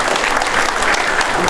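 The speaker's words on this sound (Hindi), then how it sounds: "एक बार सर के वेलकम में तालियां बजाएंगे बच्चे" A crowd of schoolchildren claps in welcome for a guest at an annual school celebration, a brisk, loud, continuous patter of many small hands throughout.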